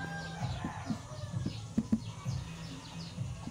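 Chickens clucking with short, repeated calls over a low background hum, fairly faint and a little distant.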